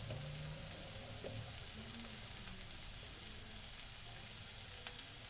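Steady, close sizzling of egg curry frying in a pan with cumin powder, a continuous hiss with faint stirring scrapes and no talk.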